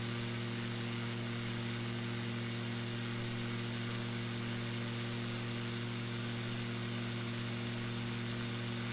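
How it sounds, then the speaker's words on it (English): An aircraft engine in Microsoft Flight Simulator 2020 drones steadily during a flight over the Danube in Serbia, a constant loud tonal hum with no change in pitch and no talk. "the engine sound is a little bit too loud"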